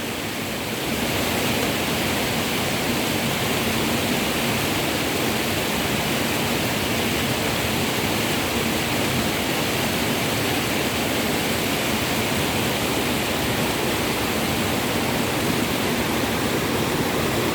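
Floodwater, now receding, rushes steadily in a broad, unbroken roar, loud and close, with no voices over it.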